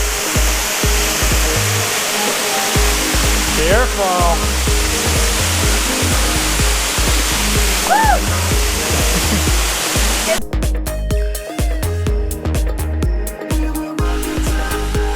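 A waterfall in a jungle park in Thailand roars in a constant broad rush, close and loud, with a voice calling out briefly over it.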